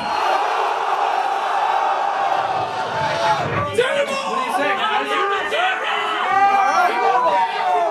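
Rock concert crowd at a show in Paris roaring and chanting for an encore, a dense mass of loud shouting voices that swells and surges over several seconds, with a singer's voice briefly heard.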